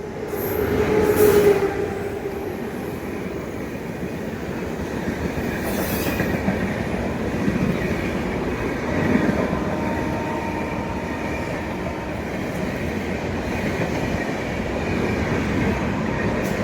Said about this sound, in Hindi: अच्छी खासी स्पीड पे क्रॉस कर रही है तिलक ब्रिज को पूर्वा एक्सप्रेस